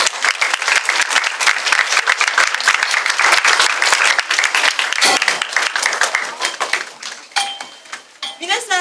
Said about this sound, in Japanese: それでは皆さん、平野さんがこれから登壇されますので拍手でお迎えしましょう。